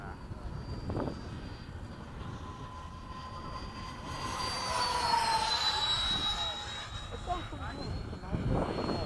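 A Freewing 90mm RC jet flies throttled back in a steady whine and rush that swells as it passes near and then fades, with people talking over it at the field.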